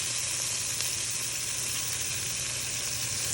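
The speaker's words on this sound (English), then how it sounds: "We are going to add in our onions and green peppers." Onions and green peppers sizzle in unsalted butter in a pan for a Southern-style chicken stew, a close, constant frying hiss with no talk.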